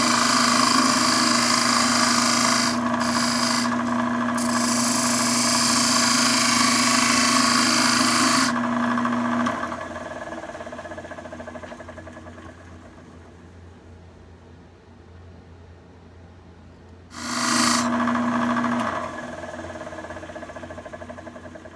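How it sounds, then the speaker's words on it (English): A power sander grinds away at the wooden handle of a handmade pizza cutter in a long continuous run, close and loud, then drops to a quieter whir before a short final burst. "I'm going to work on this end and sand it down and get it ready to go."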